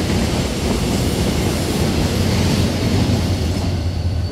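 A Korail Mugunghwa passenger train hauled by diesel locomotive 7351 pulls into a station with a steady, loud roar of engine and rolling wheels that eases slightly toward the end. No talking.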